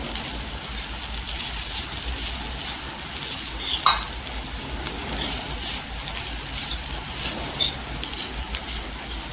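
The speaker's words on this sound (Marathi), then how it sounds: "सुक्या तव्यावरच भाजून घ्यायचं, त्याच्यामध्ये तेल वगैरे टाकायचं नाही." Onion chutney roasts on a dry griddle with no oil, a steady close crackle and sizzle with light stirring scrapes and a few sharper ticks throughout.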